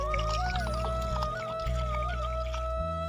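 Water poured from a jerrycan onto a young sapling, a steady gurgling pour with shifting pitch that runs continuously throughout.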